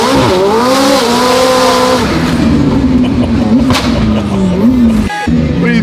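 A McLaren 720S sports car accelerates hard and close, its engine note climbing in pitch through a steady roar, with a brief gear-change dip near the end.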